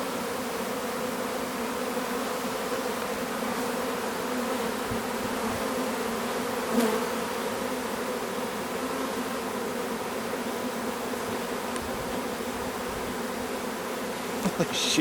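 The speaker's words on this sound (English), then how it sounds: "I can't believe the size of this swarm." Large honeybee swarm crawling down into a hive on a farm in summer, a dense continuous buzzing drone that holds steady and fairly loud throughout.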